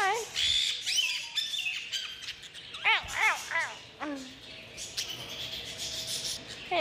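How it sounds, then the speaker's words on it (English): Birds at an aquarium squawk and chirp in repeated sharp, rising calls close by, several in quick succession, while a person talks and exclaims over them. "Blue bird."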